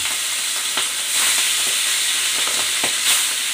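Pabda fish fry in hot oil with a steady close sizzle and scattered spitting pops, loud and continuous without any talk.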